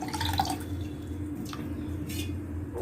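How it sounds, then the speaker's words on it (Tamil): Squeezed coconut milk pours into nonbu kari kanji, a soft, close liquid trickle with a few drips, quiet and with no talk. "வெறும் தண்ணிக்கு பதிலாக நம்ம இப்போ அந்த பாலை நல்லா புழிஞ்சு நம்ம ஊற்றலாம்"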